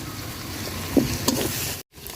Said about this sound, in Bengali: পেঁয়াজটা লাল লাল করে বাজা নিছি এই যে বাইটা রাখছিলাম যে রসুন মরিচ আর পেঁয়াজ বাটা মশলাটা দিয়ে দিলাম